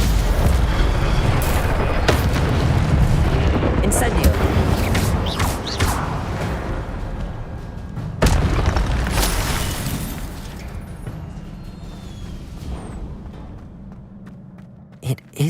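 Fiery Incendio spell blasts from Hogwarts Legacy erupt as repeated booming bursts with crackling tails, loud and dense at first and thinning toward the end, with voices and game chatter mixed among them.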